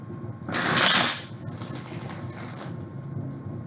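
A single quick riffle of tarot cards being shuffled snaps loudly for under a second, then the room falls back to a soft, quiet hum.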